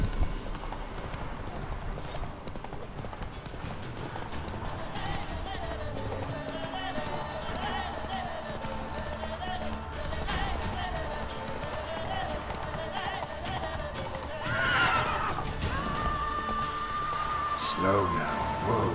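Hooves clip-clop at a steady gallop as a horse runs in The Witcher 3, a continuous rhythmic drumming under a man's speech and game music, with a whinny near the end.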